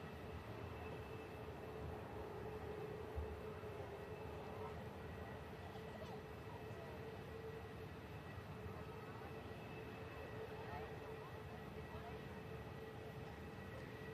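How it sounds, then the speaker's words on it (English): A Qatar Airways Airbus A350 departing on the runway at an airport, heard as a faint, distant, steady jet roar that holds evenly throughout. "Qatar Airways Airbus A350 carrying out the return leg back to the Middle East, back to Doha as flight QR28"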